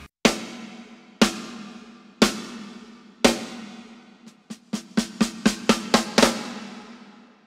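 Dry, short hits on a 14 by 6.5 inch DW maple snare drum muffled with tape, damped ring, first four spaced single strokes, then a quicker run of evenly spaced hits.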